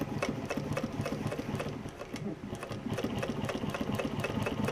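A Juki walking foot sewing machine stitches car upholstery in a fast, steady mechanical chatter, its rapid rhythmic thumping running close and continuous with a brief slowdown midway.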